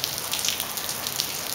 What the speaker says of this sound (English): Looks like it's raining again.